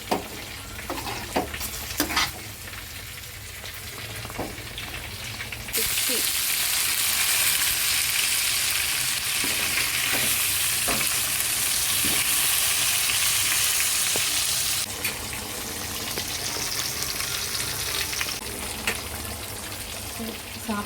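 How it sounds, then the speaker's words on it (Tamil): Chicken gravy bubbles and sizzles in a pan, a dense, steady crackle that swells louder for several seconds in the middle and then eases back down, with faint background sounds around it. "சிக்கன் கிரேவி வந்து இங்கே வந்து கொதிஞ்சிட்ருக்கு"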